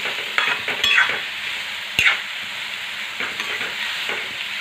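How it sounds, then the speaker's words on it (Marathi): Chickpeas being stirred into hot oil tempering for a quick chickpea usal sizzle steadily in the pan, with a few sharp spoon scrapes against the metal, close up and without voices. "आता हरभरे त्या फोडणीमध्ये टाकून येणं असे छान मिक्स करून घ्यायचे आहेत"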